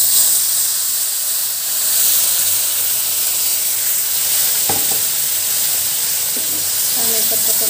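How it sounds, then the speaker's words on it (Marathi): Milk boils and hisses in a pan for sheera, a loud steady sizzle and steam with a few metallic spoon scrapes against the pan toward the end. "हे आटेपर्यंत असं चमच्याने हलवत राहायचं"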